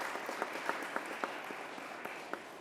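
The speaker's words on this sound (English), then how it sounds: "Let's give Mr. Phillips a round of applause." A small crowd at a governor's bill-signing event gives scattered applause for Mr. Phillips, soft and somewhat distant, with individual claps standing out over a steady background.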